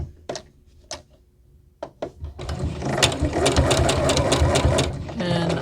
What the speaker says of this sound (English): Then I'm going to sew 2 more together.